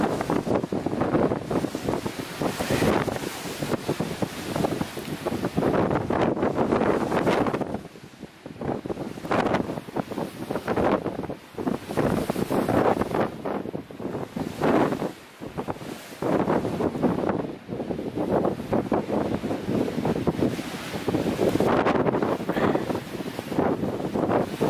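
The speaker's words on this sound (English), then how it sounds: "The wind is really strong" Strong winter wind on a mountain summit in New Hampshire's Carter range, roaring continuously and buffeting the microphone in loud gusts, with a brief lull partway through, and no voices.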